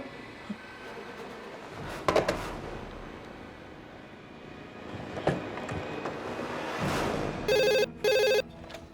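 Telephone bell ringing in a tense police crime drama, two bright electronic ring bursts near the end following scattered thumps and rumbling room noise.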